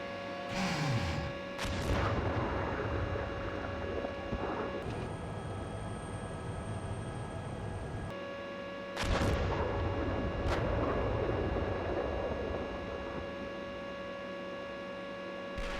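Gunfire and explosive booms in a military video game, dense and continuous over a low engine-like hum, with repeated sharp bursts and heavier blasts spread through the scene.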